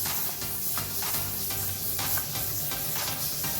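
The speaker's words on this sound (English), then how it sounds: "we shall take some butter and brown it" Butter sizzles and fizzes steadily in a hot pan over a fire while being swirled, a dense continuous frying hiss at close range with no one speaking.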